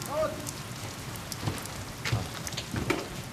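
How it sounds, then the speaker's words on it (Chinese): Light rain patters steadily on a surface outdoors, faint and even throughout, with a soft voice briefly at the start. "有点下雨啊"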